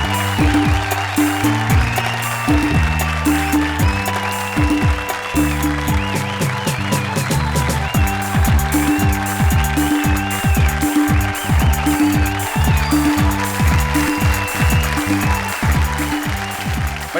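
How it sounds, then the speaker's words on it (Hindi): Audience applause for Pandit Vishweshwar Sharma at a Hindi comic poetry (hasya kavita) event, steady clapping heard alongside loud rhythmic music with drums throughout. "जोरदार तालियां पंडित विश्वेश्वर शर्मा के लिए"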